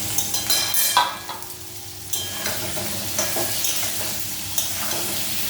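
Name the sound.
frying kohlrabi and potato in oil with cumin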